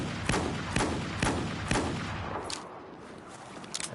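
Gunshots in Battlefield 4 fire as a rapid series of sharp cracks, about eight shots in four seconds, with a short pause and a final quick pair at the end.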